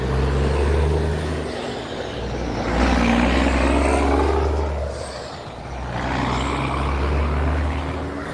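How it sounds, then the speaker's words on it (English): Heavy cement trucks rumble past one after another, a loud low engine drone that swells and fades twice over several seconds, with no talking. "it was some cement trucks in there"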